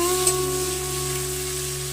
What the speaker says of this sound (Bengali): এবার দিয়ে দেবো কেটে রাখা পেঁয়াজগুলো। এবং সুন্দর করে নাড়িয়ে দেবো।